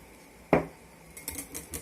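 A whisk stirring a homemade soap-and-vodka kitchen grease cleaner in a bowl, with one sharp clank followed by a few lighter, scattered clinks and scrapes, close and fairly quiet.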